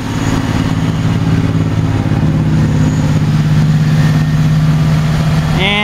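A car engine running at a steady 1500 RPM during an R134a air-conditioning recharge, a loud, close, constant hum with even tone, a brief higher whine rising near the end.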